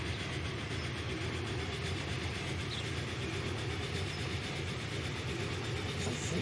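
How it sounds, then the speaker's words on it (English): Train running in the Transport Fever 2 video game, a steady, dense rumble of rolling wagons with faint clickety-clack that continues evenly throughout, with no talk. "I'm gonna follow this train and see what it does on the other side."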